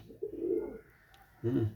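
A pigeon coos in two close, resonant bursts separated by a short pause, loud and near.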